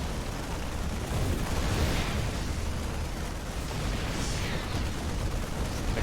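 Siege tank shelling in StarCraft 2, heavy booming blasts blurring into a continuous loud rumble of explosions with no pauses.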